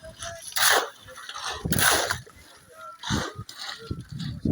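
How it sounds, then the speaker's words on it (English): Water is poured onto a freshly laid concrete house foundation in Ghana in several separate gushing splashes, each a loud rush lasting about a second with brief pauses between. "Water is being poured into the new one"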